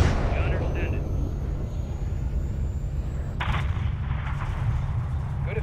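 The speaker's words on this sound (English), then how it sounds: "Have your man drop a missile on that hangar" A missile strike booms onto a hangar in the Modern Warfare III game, a deep rumbling blast and heavy low roar continuing under voices talking over radio.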